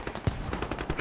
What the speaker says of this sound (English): now they can hear that AK